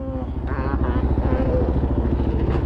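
A Suzuki DRZ dirt bike engine runs steadily and loud up close, with a rough, pulsing idle-to-rev drone throughout and someone speaking faintly over it.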